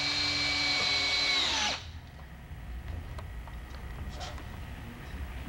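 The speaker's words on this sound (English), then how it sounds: "we start putting screws at any random point to lock it in place" A power drill drives screws into a conveyor belt during a mechanical belt splice, giving one loud, close, continuous whine that cuts off abruptly after under two seconds, leaving quiet room tone.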